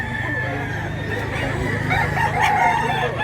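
Rooster crowing close and loud, a single drawn-out call over a busy farmyard with other fowl clucking and a voice talking in the background.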